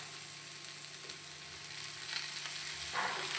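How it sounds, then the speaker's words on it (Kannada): Tomato sizzling as it sautés in a hot pan with spices for chicken green masala, a steady close crackle and hiss running throughout with no talking. "ಟೊಮೆಟೊ ಹಾಕಿ ಇದನ್ನು ಒಂಚೂರು ಬಾಡಿಸ್ಕೊಳ್ತೇನೆ"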